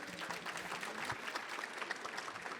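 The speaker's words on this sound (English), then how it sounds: "Please give our panelists a round of applause." An audience at a Black History Month luncheon panel gives a round of applause for the panelists, a steady, moderately loud patter of many hands clapping for a few seconds.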